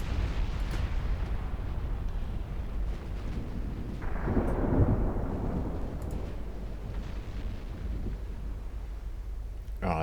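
Thunder from a lightning strike during a naval battle in Ultimate Admiral Dreadnoughts, a loud rolling low rumble that swells around the middle, over steady broadband background noise with no talk.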